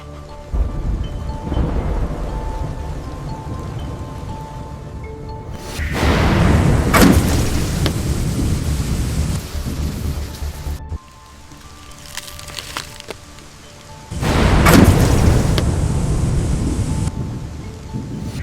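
A forest thunderstorm with heavy rain: two loud, rolling thunder crashes break over a steady roar of downpour and wind, the storm swelling and easing between bursts, with no voices.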